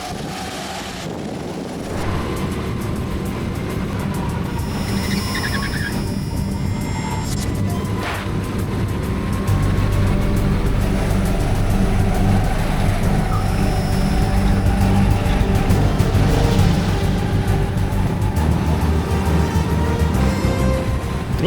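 Go-karts race around a karting track, their engines forming a loud, continuous buzzing drone that swells slightly midway, with rushing wind noise over the microphone throughout.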